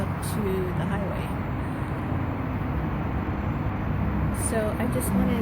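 Steady highway traffic roars from just beyond a residential property outdoors, a constant broadband rumble with occasional passing vehicles, heard alone without speech.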